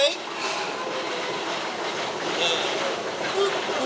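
A theme park ride train, a staged train robbery attraction at an amusement park, rolls along steadily with a continuous rumble and faint wheel squeals, close by, with voices mixed in.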